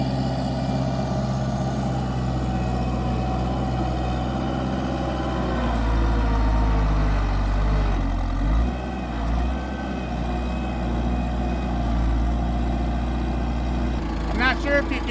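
A tractor engine drones loud and steady while its front bucket strains to lift against bogging hydraulics, a continuous low rumble that fills the whole stretch with someone talking over it.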